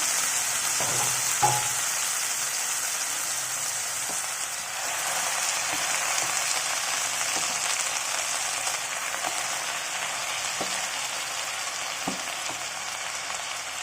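Fenugreek leaves and chilli greens fry in a pan with a steady, dense sizzle that holds throughout, joined by a few soft stirring knocks close by.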